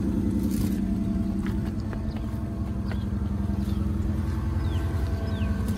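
A loud, rough car engine with no muffler rumbles and revs up close with a raw, unmuffled rattle and steady throbbing pulse.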